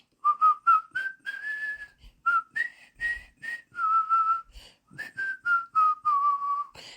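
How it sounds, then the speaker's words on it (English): Someone whistles a theme song melody up close, a run of short and held notes with brief pauses between phrases. "And then sometimes I feel like you sound like an ass, and so I just whistle it."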